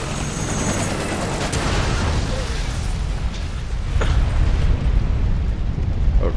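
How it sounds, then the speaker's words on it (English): Gunfire and explosive bursts from the video game Resident Evil 6 rumble steadily through a dense, noisy mix, with a few sharper bangs standing out over the constant low roar. "Chris and company were shooting it."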